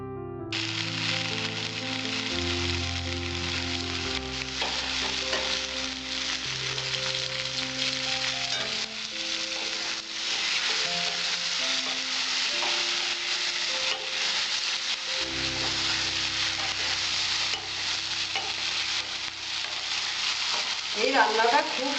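Okra (bhindi) fries in a pan with softened onions and is stirred around, a continuous hissing sizzle with scraping stir strokes, steady throughout under quiet background music.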